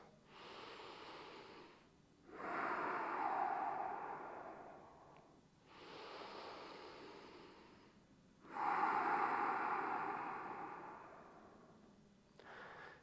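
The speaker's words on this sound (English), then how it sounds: "Last deep breath in." Slow, deep yoga breaths held in bridge pose: long airy inhales and exhales alternate in a steady rhythm, close and soft, with brief pauses between each breath and no talking.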